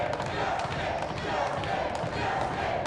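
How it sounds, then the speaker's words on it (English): Crowd at the 2015 Mosconi Cup pool match cheering and shouting in a steady, dense roar, with a commentator's voice mixed in. "The crowd cheering him on."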